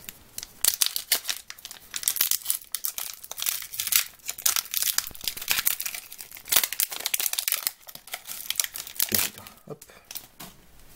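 Trading card booster packs are torn open and handled, giving a dense, close run of crinkling foil, ripping and rustling that goes on without a break.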